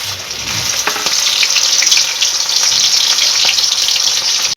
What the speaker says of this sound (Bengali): এই যে এবার তেলের মধ্যে দিয়ে ফ্রাই করব, ফ্রাই